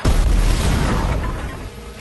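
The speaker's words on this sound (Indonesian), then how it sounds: "ia memutuskan untuk meledakkan seisi gereja" A church is blown up in a big explosion. A heavy, booming blast starts at full loudness, with deep low rumble and broadband roar, then slowly decays over a couple of seconds without fading out entirely.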